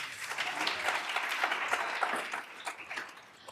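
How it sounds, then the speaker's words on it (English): An audience at a 2024 kickoff event applauds for the millennials: dense, steady clapping from many hands that holds strong and then thins and fades toward the end. "Round of applause for the millennials."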